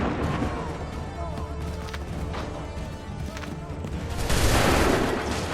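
Musket volley gunfire in Assassin's Creed 3, a rumbling battlefield of scattered shots under game voices, swelling into a louder, denser burst near the end.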